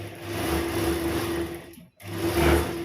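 A sewing machine stitches a kurti seam half an inch inside an earlier stitch line, giving a steady close whirring hum that stops briefly near the end and then starts again.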